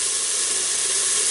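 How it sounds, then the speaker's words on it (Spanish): Sofrito for seafood rice sizzles steadily in a hot pan, a continuous bright frying hiss holding at an even, fairly loud level throughout with no voices over it. "Ya está más o menos sofriéndose"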